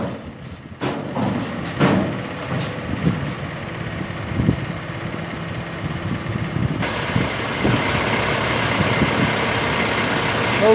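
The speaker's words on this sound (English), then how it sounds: "here's a video of the engine in the truck." A diesel engine of a 2007 Chevrolet Kodiak C8500 truck idling steadily with a low rumble, joined by clanks and brief knocks early on, then growing louder and rougher with wind noise.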